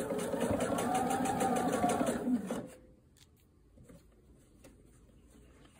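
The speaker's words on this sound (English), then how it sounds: "I've got the right sides pinned together, and I'm going to stitch around." A sewing machine runs steadily for about two and a half seconds, stitching around the pinned seam of a bomber jacket lining at 5/8 inch, then stops, leaving quiet fabric handling and light clicks.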